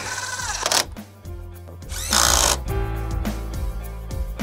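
Power drill driving screws into a Jeep Wrangler hard top: loud, close whirring bursts that start and stop, with a sharp high-pitched rev in the middle and no talk.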